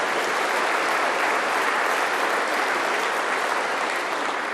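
A church audience applauds its choir and musicians with steady, dense clapping that holds at an even, loud level throughout, with no voices standing out.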